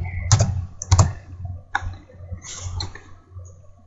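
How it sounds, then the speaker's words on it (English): Keys clatter on a computer keyboard during Photoshop editing, a few sharp close clicks and short bursts of typing with pauses between, heard alone without talk. "Shift F6 from my keyboard"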